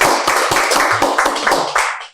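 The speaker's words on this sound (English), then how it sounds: "let's give him a round of applause," Loud, steady audience applause at a Blue Economy TV launch event, dense clapping throughout that fades out at the end, with no talking over it.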